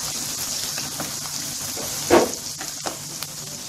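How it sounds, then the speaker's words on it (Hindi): Ginger, garlic and green chili fry in a pan over a medium flame, making a steady close sizzle and crackle with one louder spatter partway through. "ये देखिए जो हमने जिंजर गार्लिक और चिली डाले थे इसको मैं उतनी देर फ्राई कर रही हूँ"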